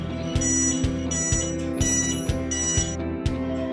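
A home security system alarm, triggered by a door opening, sounds continuously as a loud electronic tone with a steady rhythmic pulse, repeating roughly twice per second, with no talking.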